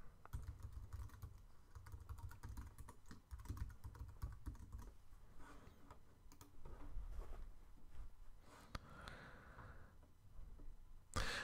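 Fingers tap quickly on a computer keyboard while logging in, irregular bursts of close, quiet key clicks with short pauses between runs.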